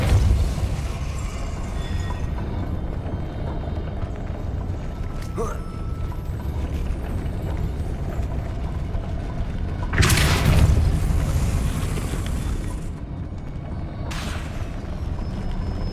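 The Depulso force spell in the wizarding video game Hogwarts Legacy casts with a deep whooshing boom, two separate blasts standing out over a rumbling game backdrop.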